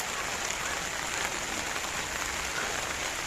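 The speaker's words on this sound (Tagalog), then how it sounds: "kasi malakas yung ulan" Heavy typhoon rain pours steadily, a dense hiss of drops drumming on a surface, even and continuous with no voices.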